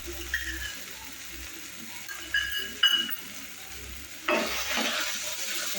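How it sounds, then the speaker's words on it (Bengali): Onion, garlic and chopped capsicum frying in oil for Kashmiri aloo dum, stirred in the pan, with a soft steady sizzle and occasional utensil scrapes that grow louder and brighter toward the end. "ততক্ষণ নাড়বো যতক্ষণ না মিশ্রণ থেকে তেল বেরিয়ে আসছে এবং পেঁয়াজ রসুনের কাঁচা গন্ধ চলে যাচ্ছে।"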